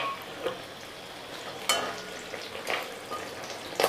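Pieces of freshwater shark (borali) fish fry in a pan with a soft, steady sizzle, punctuated by occasional louder crackles and scraping as they are turned and stirred.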